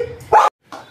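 A big dog barks sharply twice at a veterinary clinic where pets wait for vaccinations, close and loud, with a short whining tone before the first bark.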